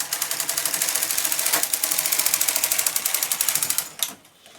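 Knitting machine carriage running across the front bed in partial setting, a rapid, even mechanical clatter with regular rhythmic pulses, loud and close, ending with a sharp clack as the carriage stops.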